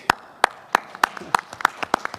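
A single person claps slowly and sharply, about eight evenly spaced claps close to the microphone, with no crowd joining in.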